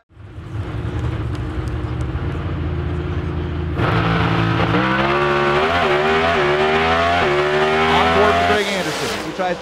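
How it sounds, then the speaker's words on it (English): Nitro-fuelled NHRA drag racing car making a qualifying run at over 330 mph, a loud sustained roaring engine drone that surges harder midway with rising harmonic tones, heard close and continuous without talk. "Blake Alexander goes 387, 331 miles per hour"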